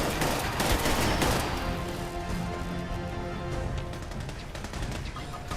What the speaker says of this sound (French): Oh, ça tire, attention.